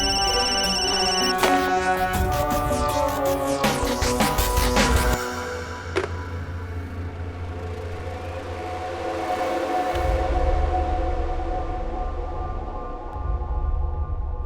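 A phone ringtone plays loudly for about five seconds as a bright, repeating electronic melody, then gives way to a low, droning rumble that continues to the end.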